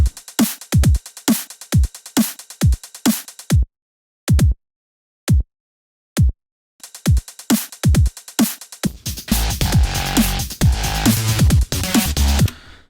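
Punchy kick drum hits in a steady four-beat pattern, a short gap, then the kicks return as a full mix with the bass sidechain-ducked, pumping around each hit.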